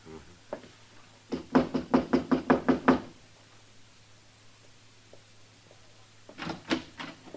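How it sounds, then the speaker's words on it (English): A door in an Old West radio drama is knocked on with a quick run of about eight sharp raps, followed after a pause by a second short burst of knocks; a low steady hum underlies it, with no talk. "Knock."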